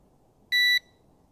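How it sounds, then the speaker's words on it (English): A single short electronic beep from a GPS drone during compass calibration sounds clearly and alone, a steady bright tone lasting about a quarter second against near silence. "You'll hear it beep when it's completed."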